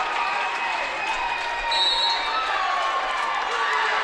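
A high school basketball crowd fills a gym as Guthrie hosts Western Heights, a dense steady roar with a brief swell partway through.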